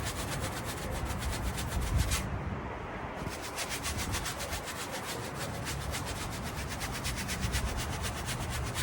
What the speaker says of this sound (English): I'm just scrubbing it, getting that paint into the fabric.